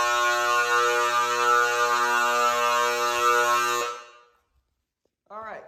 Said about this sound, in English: The fire alarms are really loud from outside.